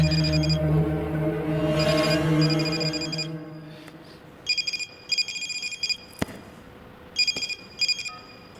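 Telephone ringing in repeated electronic bursts, each ring pulsing in short trills with gaps between, loud and close after a stretch of low music and background sound.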